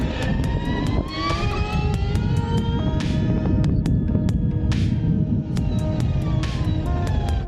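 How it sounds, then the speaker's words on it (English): The electric motor of a 2022 Energica Experia touring motorcycle whirs as it rises in pitch, with gear noise and heavy rushing wind and regular ticking underneath. "You do have a little bit of whirring from the motor,"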